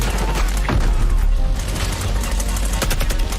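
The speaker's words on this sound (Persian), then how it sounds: "الان منفجر میشه این بشکه ها." Dense, chaotic burst of gunfire and sharp blasts in The Last of Us remake as barrels explode, loud and continuous, with a few heavier bangs standing out across the clip.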